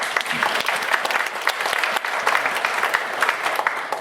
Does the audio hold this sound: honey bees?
no